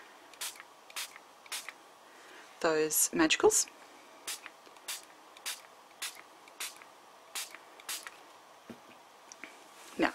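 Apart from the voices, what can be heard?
spritzing water from a spray bottle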